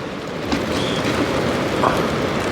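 Heavy rain pours steadily over a hillside home in the mountains, a dense, continuous hiss close by with no break across the whole stretch.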